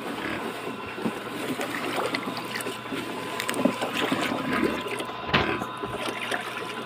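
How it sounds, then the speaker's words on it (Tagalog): Live snails being washed in a container of water, with soft continuous sloshing, trickling and small splashes close by, steady throughout with brief louder splashes. "Lagay lang natin dito sa tubig para mahugasan"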